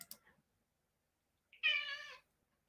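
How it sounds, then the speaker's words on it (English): A pet cat gives one clear, drawn-out meow in a quiet room, close and fairly loud, after a few faint soft sounds and a long stretch of silence. "You might hear my little kitty in the background."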